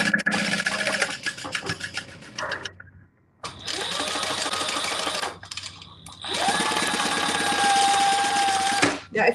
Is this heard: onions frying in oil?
no